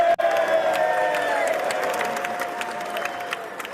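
A crowd in Congress applauding and cheering as the President arrives, a sustained loud wash of clapping with scattered whoops and voices under it.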